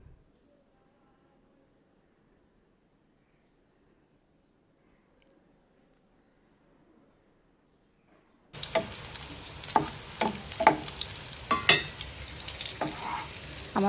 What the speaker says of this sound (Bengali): এখানে আমি পেঁয়াজ, রসুন, শুকনো মরিচ, কাঁচামরিচ একসাথে করে ভেজে নেব